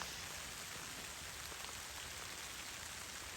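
Rain falls steadily outdoors, a dense, even hiss of drops hitting surfaces nearby with no pauses and no voices.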